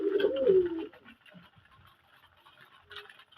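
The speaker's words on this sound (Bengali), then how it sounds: "আমি সব দেশি কালারিং গোল্লা কবুতর পালি আমি দেশি কবুতরের ভক্ত" A native pigeon on a pigeon farm gives one clear, close coo at the start, then quieter rustling and faint background sounds follow.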